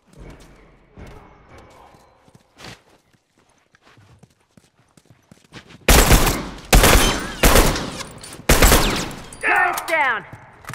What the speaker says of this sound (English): Watch it, he's got a shotgun!